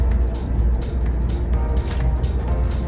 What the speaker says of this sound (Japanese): 走行試験では工場内のレールをさまざまな速度で走行